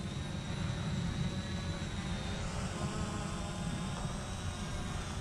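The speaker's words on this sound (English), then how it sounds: "There's the drone. Yep. It's following me." A We Fone WF30 4K GPS drone hovers and flies overhead outdoors, giving a steady, moderately faint high-pitched propeller whine over a broad hiss that shifts slightly in pitch partway through.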